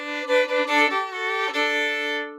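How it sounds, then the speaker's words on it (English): Fiddle playing a shuffle bowing pattern from a song, a few quick rhythmic bow strokes on sustained, bright notes that ring out and fade at the end, solo and close. "you can do the shuffle bowing, which is basically big,"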